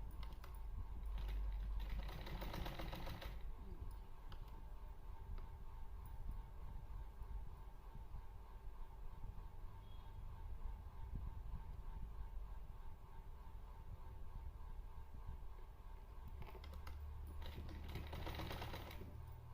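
A sewing machine runs steadily while stitching salwar fabric, a continuous whirring hum lasting the whole stretch, with slightly louder bursts at the start and end.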